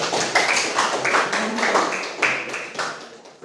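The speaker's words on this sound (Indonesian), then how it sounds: "tepuk tangan untuk kita semua" A classroom of students claps together after a group presentation, a brisk patter of many hands that rises and falls in bursts over a few seconds, close and fairly loud with no talking over it.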